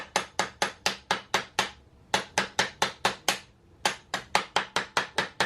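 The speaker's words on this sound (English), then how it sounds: "We're gonna put it on the other side and whack it with a hammer" Steady metallic hammer blows on a punch in quick rhythmic bursts, about six or seven sharp strikes per burst with brief pauses between, close and loud, while repairing a Sur Ron electric motorbike.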